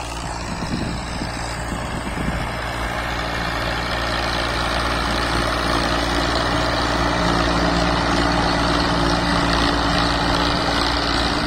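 Massey Ferguson 1035 DI tractor pulling a harrow through a wheat field, its diesel engine droning steadily and loudly with a constant low rumble throughout, no talking.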